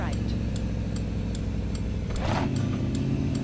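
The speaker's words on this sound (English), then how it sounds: "Listen to the sound of that blinker." A 1986 Ford F-350 truck's turn signal ticks in a steady, even rhythm, about two clicks per second, over a loud, low engine drone.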